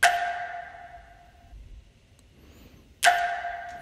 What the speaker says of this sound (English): So like that flam kind of sound.